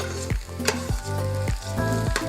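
Onions frying in an Instant Pot for Lebanese mujadara, a steady close sizzle broken by several sharp scraping strokes of stirring, with no talk.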